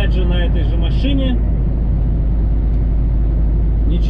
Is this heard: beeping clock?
no